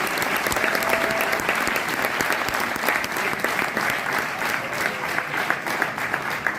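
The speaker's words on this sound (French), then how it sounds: "pour ça on peut aussi vous applaudir" At a graduation ceremony, an audience claps in a loud, steady, dense round of applause that holds for the whole stretch, with faint crowd murmur beneath.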